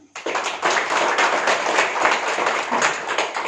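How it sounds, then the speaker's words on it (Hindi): An audience at a spiritual class claps together in a sustained, dense burst of applause that starts abruptly and holds steady throughout. "सब एक बार ताली बजाएंगे।"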